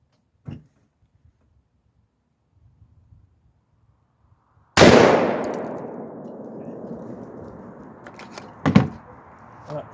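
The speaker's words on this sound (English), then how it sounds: "We're shooting it at 30 yards." A single AR-10 rifle shot cracks loudly at a mild steel plate 30 yards away, its sharp blast ringing and decaying over several seconds, followed by a metallic clank; faint small clicks come before it.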